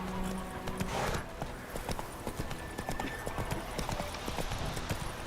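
Roach, the horse in The Witcher 3, trots with a steady, rhythmic clip-clop of hooves under faint game ambience.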